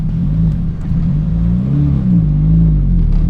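A Honda Civic sits with the clutch in and throttle floored, its anti-lag holding the revs near 6,500 before launch; a loud, steady engine drone and rumble continues unbroken throughout, with no talk.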